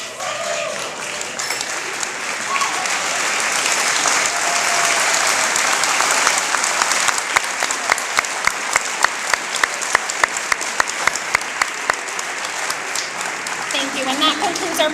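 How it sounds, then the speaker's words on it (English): An awards-night audience at a high school claps for medal-winning students: dense, steady applause that swells and holds for the full stretch, with a few sharper claps standing out near the end. "Please join me again in a round of applause to congratulate these students on their achievement."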